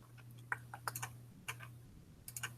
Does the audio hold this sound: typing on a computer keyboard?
yes